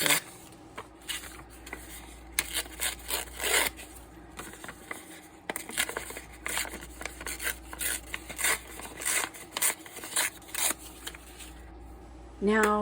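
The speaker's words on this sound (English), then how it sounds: "Tearing paper." Paper is torn by hand for a journal page in a close, quiet setting, giving a string of crisp, irregular ripping bursts with short pauses between them.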